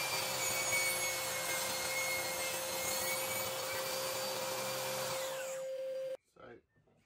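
A table saw with a tapering jig cuts a wooden taper for a Moses basket rocker, a loud steady whine of blade through wood running for about six seconds before stopping abruptly, followed by brief clatter.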